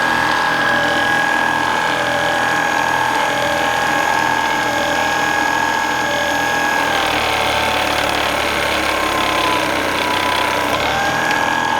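A Goodell-Pratt belt-driven drill press drilling thin brass: a loud, continuous mechanical whir and rattle of belt and gears, steady throughout, with no speech.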